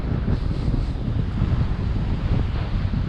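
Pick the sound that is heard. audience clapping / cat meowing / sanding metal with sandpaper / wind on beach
wind on beach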